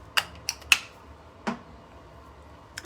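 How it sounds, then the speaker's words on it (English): A makeup setting spray misted onto a brush in a few short, sharp hisses: two quick bursts close together, a stronger one, then a separate spritz, with quiet pauses between them. "Again, I'm gonna spray my brush"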